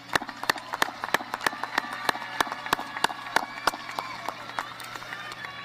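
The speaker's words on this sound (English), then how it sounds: "So let's give them a huge round of applause." Scattered clapping from a graduation audience honoring school staff, sharp individual claps standing out over a softer murmur of distant applause, fairly quiet and irregular.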